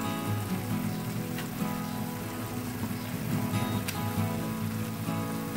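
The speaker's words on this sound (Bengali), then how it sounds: "এবার আমি এর মধ্যে ভেজে রাখা মাছগুলো দিয়ে দিচ্ছি।" Fried katla fish pieces go into a cooked, oil-separated spice masala in a pan, giving a steady, dense sizzle that runs continuously and fairly loud, with no talking.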